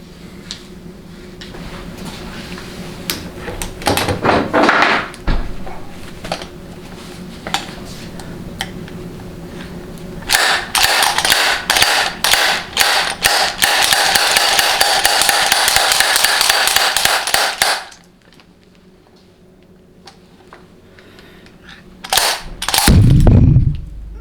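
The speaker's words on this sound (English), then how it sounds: "I'm going to have to actually make an adapter to use my real heavy slide hammer." Rapid metallic banging of a heavy slide hammer removing a 68RFE transmission bushing in a long steady burst, with scattered knocks before and a few heavy clanks after a quiet pause.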